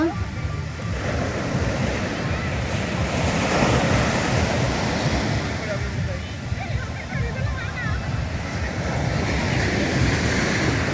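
Ocean surf at Marina Beach in Pondicherry roars steadily in the evening, a continuous wash of breaking waves with wind buffeting the microphone throughout.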